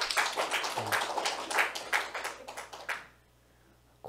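A church congregation claps together for about three seconds, a dense burst of hand claps that stops abruptly, leaving a quiet room.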